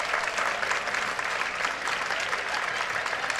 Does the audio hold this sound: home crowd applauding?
yes